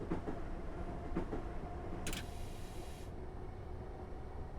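Train accelerating on the single-track St Albans Abbey branch line in Train Simulator 2017, a steady low rumble with soft rhythmic wheel clicks and a brief hissing burst midway, moderately quiet with no talk.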